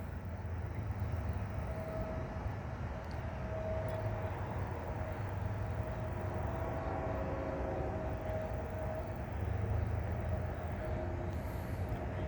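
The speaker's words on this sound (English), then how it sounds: "Here comes the train" A long southbound CN oil freight train hauled by ET44AC, SD70M-2 and ES44DC locomotives rumbles steadily with a broad, continuous roar and a faint tonal whine, growing slightly stronger toward the end.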